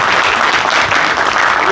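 A crowd at a Korean book launch event breaks into loud, steady applause, dense clapping that fills the whole moment.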